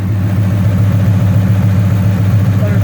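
A 1967 Eleanor pro-touring car with a Coyote engine and six-speed idles steadily, a loud, close, even low rumble that holds throughout with no talking.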